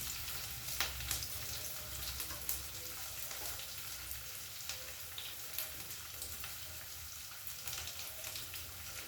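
Dal and vegetables, onion among them, roast in a pan with oil, sizzling and crackling steadily, with scattered sharp pops and light stirring scrapes. The sound is fairly quiet and close, with no talking.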